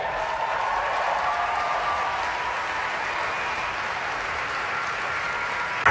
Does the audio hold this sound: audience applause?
yes